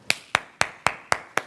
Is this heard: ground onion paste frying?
no